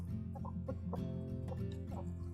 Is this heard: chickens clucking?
yes